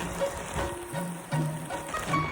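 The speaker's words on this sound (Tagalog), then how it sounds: "ang lakas ng ulan at medyo mahangin pa" Heavy rain with some wind on a flooded street with blocked drains, a steady broadband patter and hiss filling the short stretch at moderate level with no voices.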